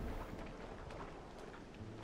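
Steady rainfall with a low thunder rumble in the Western video game Red Dead Redemption, a quiet, even wash of rain with no voices.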